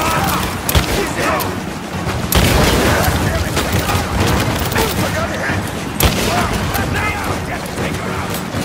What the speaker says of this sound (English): Alright, dude, time to use a shotgun